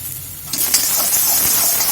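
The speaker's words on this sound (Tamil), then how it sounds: "ஒரு 30 seconds அப்படியே வதக்கலாம் போதும்." Sprouted green gram sautés in a pan, starting quietly before a soft sizzle and stirring scrape rise after a moment and hold steady to the end.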